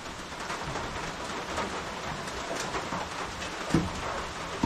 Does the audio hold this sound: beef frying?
no